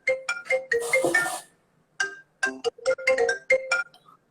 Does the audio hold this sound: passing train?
no